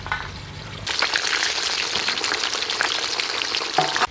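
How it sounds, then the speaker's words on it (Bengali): Small local fish deep-fry in plenty of hot oil. After a quieter moment the oil bursts into a loud, close, continuous crackling sizzle that holds steady with no talking. "সব মাছ ছাঁকা তেলে ভেজে নেব। এই মাছ কিন্তু একটু লাল লাল করেই ভাজতে হবে"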